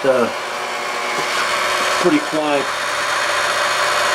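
A Tjernlund HS1 sidewall power venter hums steadily beside a Slant/Fin Galaxy GXHA 200 EDPZ boiler. The fairly quiet, even whir continues under someone talking in short bursts close by.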